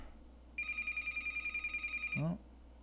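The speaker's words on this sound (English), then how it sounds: "There's the phone." A telephone rings nearby in a series of rapid warbling trills lasting about a second and a half, clear against a quiet room, followed by a short low thump.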